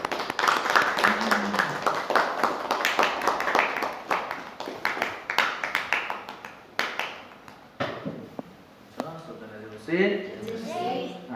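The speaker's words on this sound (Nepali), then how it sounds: "ताली बजाइदिनु।" Congregation at a Saturday church service clapping together, a dense run of rapid hand claps through the first half that thins into scattered claps as voices talk over it.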